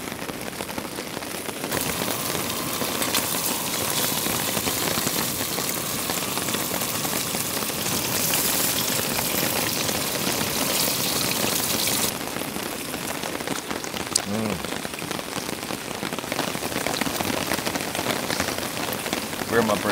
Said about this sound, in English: the rain's coming in pretty hard